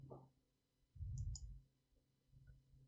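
Mouse clicks on a computer while selecting the Roboto font in Google Fonts for an HTML and CSS coding project, a couple of sharp close clicks among quiet desk noise and low thumps.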